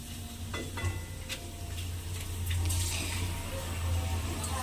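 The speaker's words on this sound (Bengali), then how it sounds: "এইবারে এই পাঁপড়গুলোকে একটা একটা করে ভেজে নেব" Papad pieces fry in hot oil in a kitchen pan with a soft continuous sizzle, joined by occasional scrapes and clinks of a utensil, moderately close and fairly quiet.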